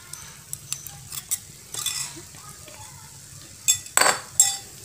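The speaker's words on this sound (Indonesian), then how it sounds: "Terus aja kita aduk hingga kadar airnya berkurang" Dodol mixture with dissolved agar-agar being stirred in a pan, giving scattered scraping and light clinking strokes, a few louder scrapes near the end over a quiet background.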